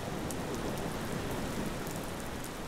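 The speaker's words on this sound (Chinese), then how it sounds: "但就这种淅沥沥沥的小雨的声音" Light, steady drizzle falling as a soft white-noise hiss, even and continuous throughout with no thunder or voices.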